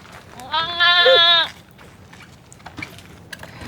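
A goat gives one loud, close bleat lasting about a second, followed by quiet outdoor background with faint movement.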